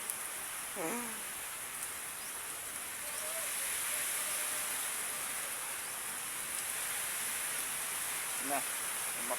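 Steady rain pours down at a workplace, a dense even hiss that fills the whole clip at moderate level, with a couple of brief voices cutting through near the start and end.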